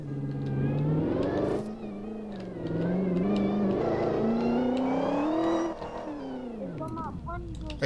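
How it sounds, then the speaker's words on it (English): A car engine in the Roblox game The Hood roars and revs steadily with shifting pitch, loud and close, while a voice talks over it. "This car is loud."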